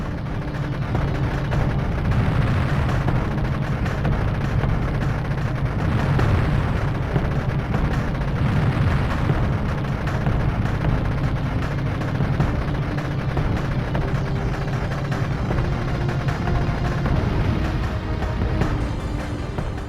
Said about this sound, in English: except for the disappointingly wimpy explosion at the end